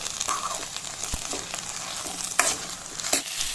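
Fried eggplant being stirred in a pan with coriander leaves, garlic and chili masala, a steady close sizzle broken by a few sharp scrapes and clinks of the spoon, no speech.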